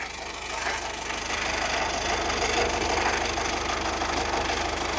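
A used car's sealed engine idles steadily at a Tiruchendur car lot, a continuous rumbling, slightly knocking drone heard up close with no one speaking.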